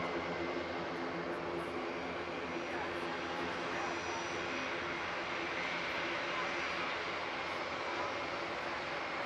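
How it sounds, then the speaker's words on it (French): Airbus A400M military transport flying a display at an air show, heard as a continuous, loud broad roar of engines with a steady drone that stays even throughout, distant and unbroken. "Cette démonstration a pour objectif de vous faire admirer les performances extraordinaires de l'A400M"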